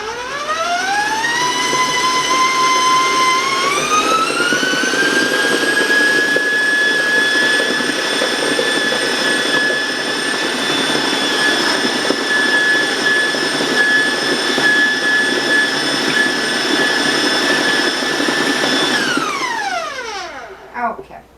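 An electric mixer whirs steadily while beating cake batter for chocolate chip plum mini cakes, its motor pitch rising as it speeds up, then holding loud and close before winding down at the end.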